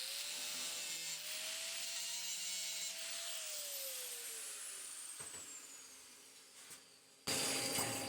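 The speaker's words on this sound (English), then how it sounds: "then we'll just take the grinder after we've tacked it in and remove the stud" An angle grinder works on sheet metal to remove a tacked-on stud, giving a steady high whine that slowly winds down, then a short, louder grinding burst at the end.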